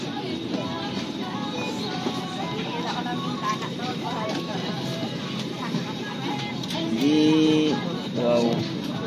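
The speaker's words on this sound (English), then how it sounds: "at least nasa loob na kami ng airplane" Cabin ambience aboard a Cebu Pacific airliner flying from Bohol to Manila: a steady engine and air-system drone fills the whole stretch, with people talking throughout and a brief louder swell near the end.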